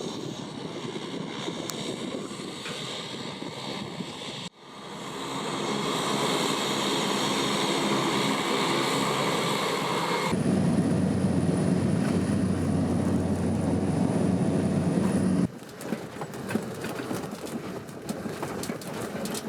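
A small plane's engine drones steadily through a short flight over the Hwange area of Zimbabwe, loud and close from inside the cabin, with abrupt shifts in tone as the engine and propeller settle into cruise.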